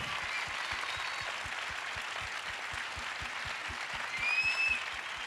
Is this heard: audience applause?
yes